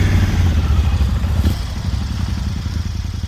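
A Husqvarna Norden 901 motorcycle rides through thick bush, its engine a steady, fairly close mid-pitched drone with a brief clattering knock partway through.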